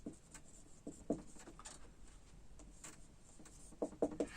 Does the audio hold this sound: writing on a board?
yes